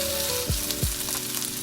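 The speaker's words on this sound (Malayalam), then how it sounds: "ഒരു സ്വല്പം എണ്ണയും കൂടെ ഒഴിച്ചിട്ട് തക്കാളി ഇടണം" Tomatoes dropped into a little hot oil for Kerala sambar give a loud, continuous frying sizzle with a couple of brief low thumps, alone with no voices.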